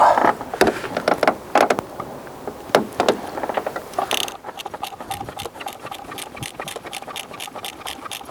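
An oil filter is worked loose from a Range Rover Sport L320, with a run of quick, close clicking and rattling taps that thin out into lighter, rapid ticks.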